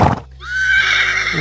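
A horse whinnies once, loud and close, a rising shrill call that holds and wavers for about a second after a brief rustle, with no talk over it.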